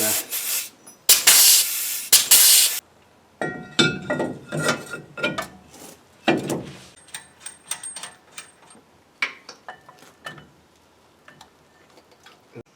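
Grease sprayed onto suspension parts of a 2022 Toyota Tundra during a lift kit install: a loud hissing spray burst at the start, then a scatter of clicks, taps and metallic rattles.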